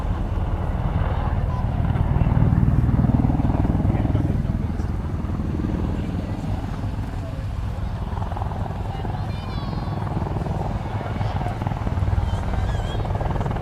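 An Army Air Corps Apache attack helicopter performs at the Cosford Airshow 2012. Its rotors make a heavy, throbbing roar that swells and fades at a moderate distance while a voice talks over it.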